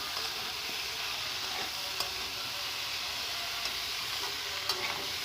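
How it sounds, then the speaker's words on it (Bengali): Radish greens frying and being stirred in a pan give a steady close sizzle, with a few faint clicks and scrapes of the spoon against the pan and no talking. "মূলো শাকটা দিয়ে ভালো করে নেড়ে চেড়ে নেবো"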